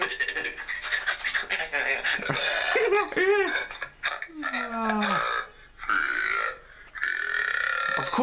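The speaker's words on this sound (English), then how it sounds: "I get so hyperactive when I do these burps." A man burping repeatedly in a morning burping session, with several long, loud, croaking belches broken by short pauses and some talking.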